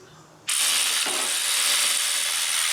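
Ratchet backing out an alternator bolt on an Acura TL: a quiet start, then a sudden loud, dense, sustained mechanical rasp that runs close up for about two seconds.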